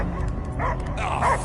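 A dog barks and yips in the video game Guardians of the Galaxy on PS5, a short burst of close, whiny barks and whimpers over a low rumbling game background.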